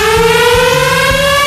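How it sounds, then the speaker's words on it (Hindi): A siren wails steadily, its rising tone holding loud and constant throughout, with a low rumble pulsing faintly underneath. "क्या ये सायरन मेरे लिए बज रहा है?"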